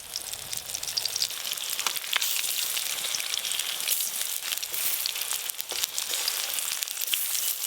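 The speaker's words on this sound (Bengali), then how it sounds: "এবার মটরশুঁটির বড়াগুলো ভেজে নেব, মাঝারি সাইজের করব এরকম, পরপর দিয়ে দেব।" Pea fritters, pressed fairly flat and medium-sized, fry in hot oil, giving a steady, loud, crackling sizzle with dense spitting pops that runs the whole time without talk.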